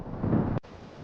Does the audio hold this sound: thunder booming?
yes